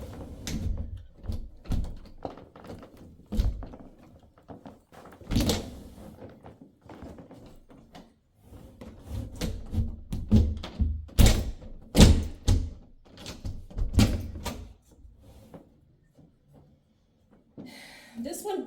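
An interior door in a house at 2902 N 49th St drags across carpet as it is shoved open, with repeated thumps, bumps and scraping while someone talks throughout.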